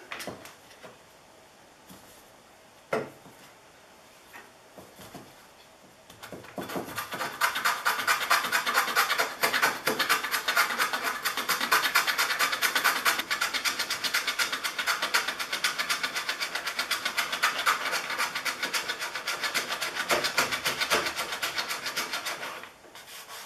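A wood hand plane shaves down a protruding Kreg Jig dowel plug, a few light scrapes first, then a sustained run of fast, close rasping strokes across the wood surface, alone without voices.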